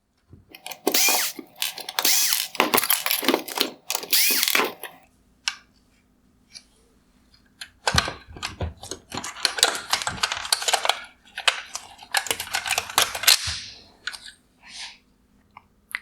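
A screwdriver backs T20 Torx screws out of the black bezel on a 2016-2019 Mercedes-Benz GLS550 LED headlight, giving bursts of close, crisp clicking and scraping with small metallic rattles, separated by brief quiet gaps.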